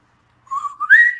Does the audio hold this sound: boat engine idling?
no